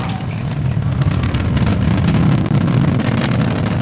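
Falcon 9 first-stage engines roaring during ascent, recorded onboard near throttle-down before max dynamic pressure: a loud, continuous, rumbling low roar with buffeting wind-like noise, steady throughout.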